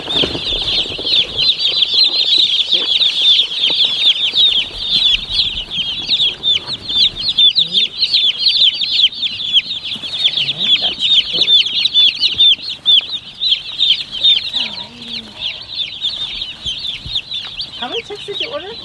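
A dense, continuous chorus of high chick peeping fills a portable outdoor brooding coop holding about 150 chicks, loud and close throughout, with faint rustling underneath.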